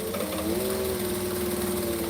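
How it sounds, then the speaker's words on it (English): A sewing machine top stitches fabric with a continuous, even motor whir and rapid steady stitching, close and unbroken for the whole stretch. "I'm going to top stitch it so it's pretty."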